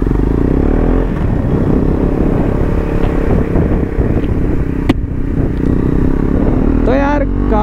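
A KTM Duke 250 BS6 fitted with an SC Project exhaust riding along, its engine a loud continuous drone under heavy wind buffeting, with a brief sharp click near the end.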